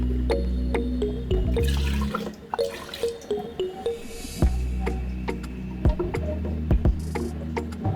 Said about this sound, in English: I'm going to loosen it up more with some water.